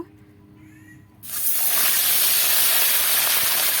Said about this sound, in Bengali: গরম হয়ে গেছে এবার আমি এক এক করে ছেড়ে দেব